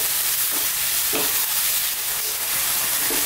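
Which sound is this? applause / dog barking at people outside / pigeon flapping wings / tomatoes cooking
tomatoes cooking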